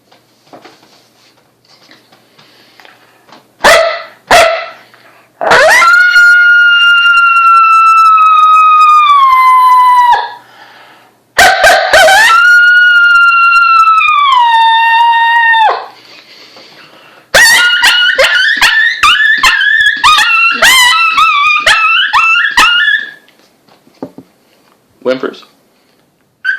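FOXPRO Gundog diaphragm call blown by a person to mimic coyotes: long rising-and-falling howls alternating with sharp yips and barks, loud and close, with pauses between phrases.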